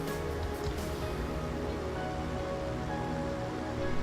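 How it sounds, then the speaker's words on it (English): Steady rain hisses over a light aircraft during a landing approach in the FSX flight simulator game, a continuous close wash of drops that runs throughout with no talk. "It's a rainy landing."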